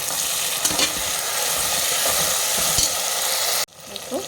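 Onions, mint and coriander sauté in a pan for Chettinad chicken curry, a steady close sizzle with scraping and stirring clatter that cuts out abruptly near the end, then resumes more faintly.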